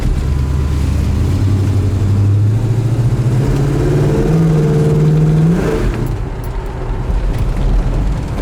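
A 1970 Monte Carlo's original 383 stroker V8 revs up in a long, rising run of steady engine roar, then drops back to a rumbling idle, loud and close with no talking.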